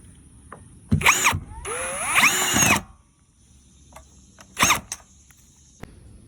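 Power drill driving screws into the panels of a MistMo 10x12 shed, several short close whirring bursts with rising pitch, one longer run, then quiet gaps with faint clicks.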